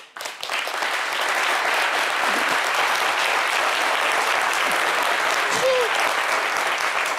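A TV studio audience applauds in a sustained, dense wave of clapping that holds steady and loud for several seconds after a brief build-up.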